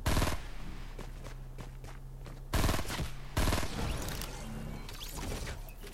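Gunfire in the mobile game Fortnite, with loud bursts of shots and a rapid volley, heavy and close, plus shuffling between them.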